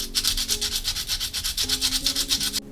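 Coarse sandpaper rubbed over a small figure in quick, even back-and-forth strokes, about ten per second, close and steady for over two seconds before stopping abruptly.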